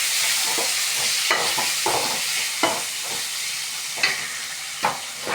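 Tomatoes sautéing with onions for a Tamil fish curry (meen kulambu) hiss steadily in the pan, with a bright frying sizzle throughout and several short scraping stirs of the spoon recurring every second or so.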